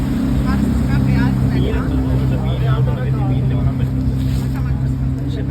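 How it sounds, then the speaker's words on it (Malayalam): A boat passes by on the water, its engine droning steadily and loudly nearby while people talk over the constant hum. "ഇപ്പോൾ ഒരു ബോട്ട് ഇതിലെ പോകുന്നുണ്ട്."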